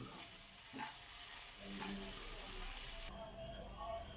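Sabudana (tapioca pearls) being stirred in a hot pan, giving a steady close sizzle and soft scraping throughout, with the hiss dropping away near the end.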